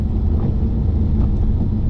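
A Lotus sports car engine with sport mode switched off gives a low, steady, muted rumble heard from inside the cabin, even and unchanging with no voices.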